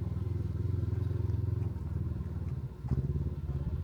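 An ATV stuck on a steep off-road desert hill near Quartzsite keeps its engine running, a moderately distant, steady chugging idle with a brief dip and then a revving surge.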